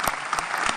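Brief burst of applause from a church gathering in Adelaide, a short patter of clapping with a few sharper claps standing out, moderately loud and close.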